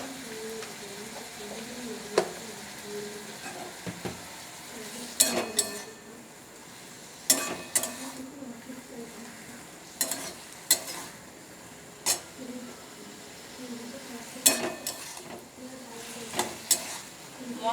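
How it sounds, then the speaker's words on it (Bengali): Prawns rubbed with salt and turmeric being stir-fried with spices in a pan, a low steady sizzle broken by repeated sharp scraping and clinking strokes of a spatula, close and without talk. "মশলাটা ভালো করে ভাজা অবধি আমি ভালো করে কষিয়ে নেব।"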